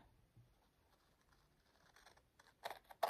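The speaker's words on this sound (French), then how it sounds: "Je vais couper tout autour du marque-page avec une paire de ciseaux" Quiet crisp snips and rustles, building to a few louder scissor cuts through paper near the end as a bookmark is cut out, close by with no talking.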